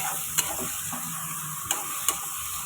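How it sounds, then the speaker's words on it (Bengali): Chopped onions sizzle in a hot pan for a Bengali bhola fish curry, a steady close hiss broken by a few sharp clicks of a stirring utensil. "একটু পেঁয়াজটা ভাজা হয়ে যাক তারপরে এটা আলুটা দিয়ে দেবো"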